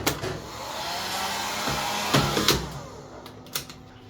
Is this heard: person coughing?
no